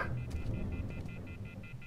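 A phone rings in The Wolf Among Us game, a steady run of short, evenly spaced electronic trills repeating through the moment over a low ambient rumble.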